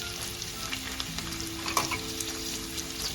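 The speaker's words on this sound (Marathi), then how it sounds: "एक 2 ते 3 मिनिटं आपण ह्याला चांगलं भाजून घ्यायचं तेलामध्ये." Red and green capsicum with onion frying in oil for paneer chilli, a dense, continuous crackling sizzle that stays loud and even throughout, with no voices.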